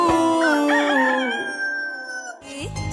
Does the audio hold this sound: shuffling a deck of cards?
no